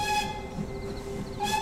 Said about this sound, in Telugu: రైలు మెరుపు వేగంతో స్టేషన్ దాటుకుంటూ వెళ్ళిపోయింది.